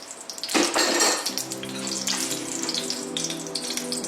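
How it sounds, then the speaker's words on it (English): About two tablespoons of ghee going into a hot wok while cooking chicken biryani. A metallic clatter comes first, followed by a steady, close sizzle with faint ringing tones. "we're going to put in the ghee, around 2 tablespoons of ghee"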